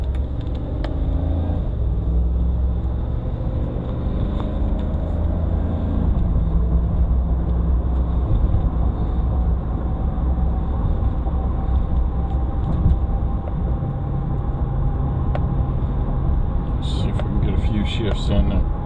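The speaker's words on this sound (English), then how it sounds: "Straight to the manual mode and go to fourth gear." A Chevy with a 6L80E transmission held in fourth gear in manual mode, steady loud drivetrain and road drone continuing throughout with no break, and a faint voice near the end.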